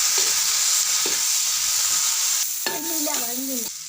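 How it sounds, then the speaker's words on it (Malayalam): Onions sauté with a little salt in a hot pan, giving a steady close hiss. A spatula scrapes through them now and then, and a brief voice cuts in near the end. "വേഗം സവോള വഴന്ന് കിട്ടാൻ വേണ്ടി ലേശം ഉപ്പ് ഇടണം."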